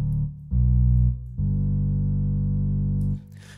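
An edgy, distorted bass-pedal synth from a Kontakt sample library plays three sustained low notes in succession, buzzy and harmonically rich, each held then released, with no other sounds.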